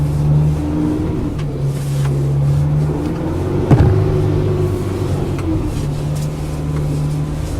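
Overland campervan pushing across slippery ground with the rear losing grip, its engine droning steadily and rising and falling in pitch as traction control works, loud and close throughout.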